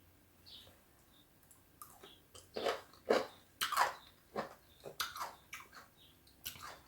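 Crunchy bites into a pickled cucumber, close and fairly quiet, with a series of sharp crisp crunches and softer chewing clicks in an irregular rhythm.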